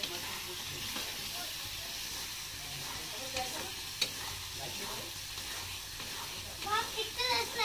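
Loitta fish frying in hot oil, a steady close sizzle and hiss with faint stirring clicks and soft bubbling throughout, growing a little livelier toward the end.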